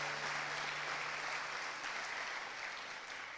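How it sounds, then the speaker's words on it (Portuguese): Church congregation applauding during a sermon, a steady broad wash of many hands clapping, faint and distant, slowly tapering toward the end. "Dê um aplauso a Jesus,"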